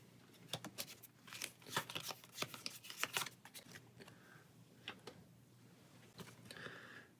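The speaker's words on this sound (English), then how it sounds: "shuffle this back into the deck" Playing cards shuffled back into a deck during a Pathfinder Adventure Card Game session, a run of crisp riffling flicks and taps that clusters loudly in the middle, fades, then returns in short bursts, close and with no talk.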